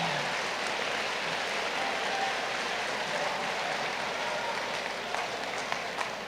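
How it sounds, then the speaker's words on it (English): An audience at a school Veterans Day program applauds students and a band, producing a dense, steady wash of clapping from a large crowd that holds evenly throughout at a moderate distance. "Can we get another round of applause for all of the students who have participated today, and for our band?"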